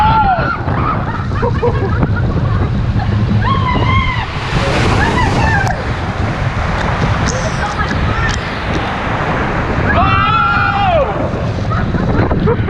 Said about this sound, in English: About to do the Aqua Coaster.